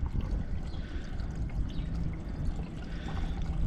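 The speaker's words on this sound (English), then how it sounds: "Let's dump some screen wash in. She's probably a little bit thirsty, tip it over the edge" Screen wash poured from a bottle into the washer reservoir of a Land Rover Freelander 2, a steady close liquid pour with glugging and trickling running continuously with no talk.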